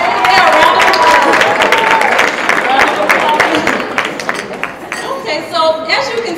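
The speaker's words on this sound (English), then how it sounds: "round of applause" Applause from a live audience at a natural-hair community event, loud and dense at first, then thinning, with a few voices chattering and calling out over the clapping.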